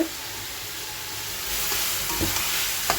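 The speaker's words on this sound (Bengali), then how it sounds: "এদিকে আমি মাছের সবজিটা কষিয়ে নিচ্ছি সুন্দর করে আর অন্যদিকে আমি থিম আলু ভাজা বসিয়ে দিয়েছি" Continuous close sizzle of potatoes frying in a pan, growing slightly louder midway, with a few soft knocks of a utensil.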